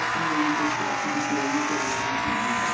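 Race car engine in the Lightning McQueen's Racing Academy video game, a steady loud roar holding a high droning pitch throughout with no one speaking over it.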